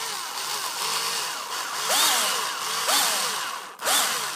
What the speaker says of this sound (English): Here's the drilling.